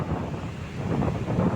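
Strong coastal wind buffets the microphone in a steady, loud low rumble with surf-like wash, on a shore where rough seas keep fishing boats from going out.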